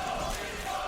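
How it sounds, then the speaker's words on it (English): Crowd at the Dota 2 International 2022 main event arena building into a cheer, a dense, continuous roar of many voices filling the whole moment without a break. "Oh, the crowd's starting to get into it a little bit here."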